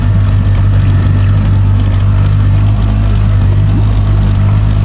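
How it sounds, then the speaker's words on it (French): A boat engine runs after a carburetor rebuild, with a loud, steady, close idle drone and low mechanical throbbing and no break in the sound. "Regardez, le moteur vire bien."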